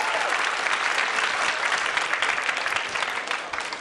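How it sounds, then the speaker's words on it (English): A crowd at the 2005 World Pool Championship breaks into loud, dense, sustained applause that fills the hall without a break. "Listen to the crowd."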